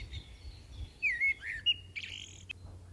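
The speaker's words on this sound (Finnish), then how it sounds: "Se oli talitiainen." A great tit sings nearby, a few short, bright chirping phrases over about three seconds against a faint low background hum, with no voices.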